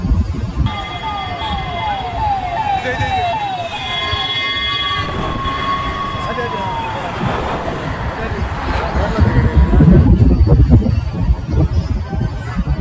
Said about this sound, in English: Wow, it's a ambulance, guys. White color ambulance.